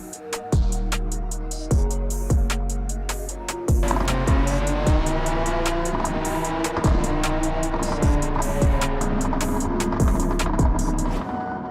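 A racing car in Gran Turismo 7, driven with a steering wheel, drifts with loud sustained tire squeal over a revving engine that climbs and drops through repeated gear shifts.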